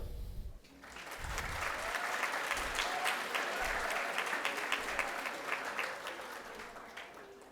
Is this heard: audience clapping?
yes